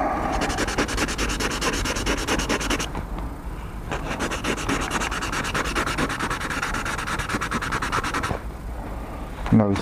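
Fine 800 to 1000 grit paper sanding burrs off an aluminium Malossi 180 cylinder kit part for a Honda NSR 125: brisk, rhythmic back-and-forth scratchy rubbing, close and continuous, with a brief pause partway through.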